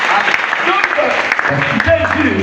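A church congregation claps loudly in a dense, continuous wash of applause, with crowd voices mixed in.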